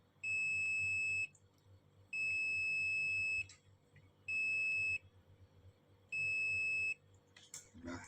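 A multimeter on diode check gives four long, steady electronic beeps with short gaps as its probes touch shorted IGBT pins on a welding machine inverter board, over a low background hum.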